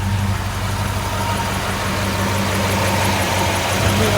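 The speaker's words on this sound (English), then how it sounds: "The compressor has engaged." A 1965 Ford Ranchero engine idles steadily with its air-conditioning compressor engaged, a constant close, loud mid-low rumble with an even mechanical hum throughout and no talk.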